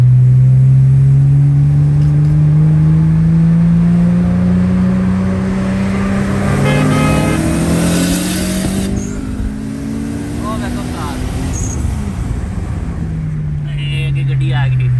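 Cars rev and race nearby, engines droning with rising and falling tones that sweep past, while people talk loudly over the engine noise.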